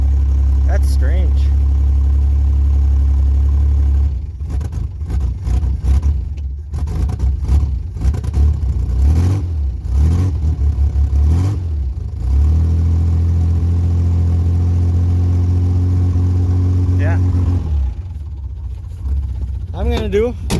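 A Ford Bronco II's engine idles and revs after being resurrected from disuse, a loud, steady low rumble swelling with throttle blips, with someone talking over it.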